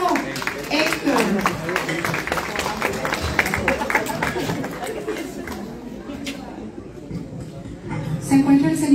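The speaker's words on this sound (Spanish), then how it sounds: "un fuerte aplauso" Applause and clapping from an audience at a film premiere as Héctor Guevara is called up, with crowd chatter mixed in and the clapping thinning out toward the end.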